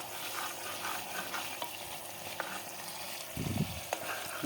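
Cream simmers into ghee in a wok, a quiet continuous sizzle and bubbling with occasional scrapes of a stirring spoon and a brief louder clatter near the end; no one speaks.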